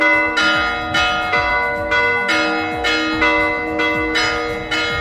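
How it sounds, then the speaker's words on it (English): Church bells in Santorini ring out in a steady, repeating peal, each stroke bright and resonant with a long ringing tail, loud and close. "The bells ringing."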